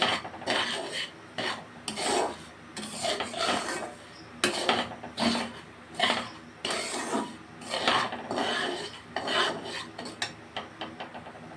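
Semolina stirred with plenty of ghee in a pan for halwa, a dry rhythmic scraping and rasping of the spoon against the pan in repeated strokes, close and fairly loud, with no voices.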